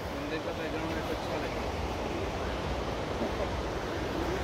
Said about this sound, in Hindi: तो ये साइड पे नदी बह रही है